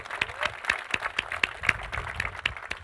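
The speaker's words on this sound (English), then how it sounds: "we can give Fred a round of applause on that" Audience applause rises for Fred, who has returned to society after criminal justice involvement and now runs his own business. The clapping is steady and mid-distance, with sharp individual claps standing out and no voice over it.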